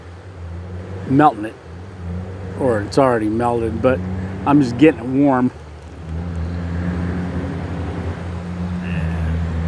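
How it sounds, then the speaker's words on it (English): Steady road traffic rumbles in the distance as cars approach a four-way stoplight, a low continuous roar under a voice talking nearby, then carrying on alone. "traffic that's coming up to that stoplight there"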